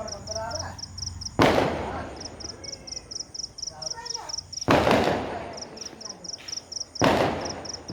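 Firecrackers bursting during Tihar celebrations, three loud sharp bangs spaced a few seconds apart, with crickets chirping steadily and voices talking between the blasts.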